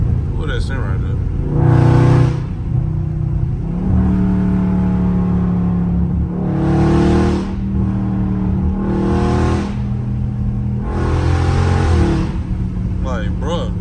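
A loud, deep Dodge Charger Scat Pack engine rumble in street mode swells in repeated revs, roughly five bursts with idling between, close by; a voice is faintly present.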